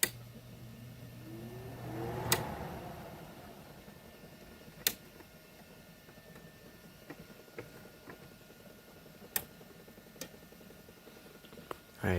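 A Haier 5,000 BTU window air conditioner runs its fan on high, giving a steady low whirring hum. A low tone cuts out early on, and sharp ticks and clicks sound at intervals. No one speaks.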